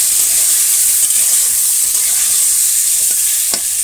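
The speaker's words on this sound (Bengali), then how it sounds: "ডাল হয়ে গেছে, রান্না করবো, তো পটলটা ভেজে দিচ্ছি।" Sliced pointed gourd (potol) fries in hot oil in a pan, giving a loud, constant sizzle with a few short stirring scrapes near the end.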